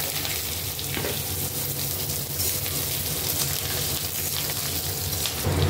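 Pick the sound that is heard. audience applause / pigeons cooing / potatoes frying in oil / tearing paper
potatoes frying in oil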